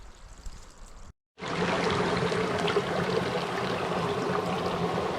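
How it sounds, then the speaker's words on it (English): Water trickles and burbles over rocks in a mountain brook along the Ravens Cliff Falls hike, a steady close wash of flowing water after a brief cut, continuous with no voices. "I love that sound of just the water trickling over the rocks"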